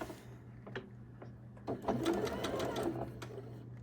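A sewing machine stitches two butted quilt fabric pieces together, its quick mechanical whirring rising in a short burst after a few brief taps, heard close up.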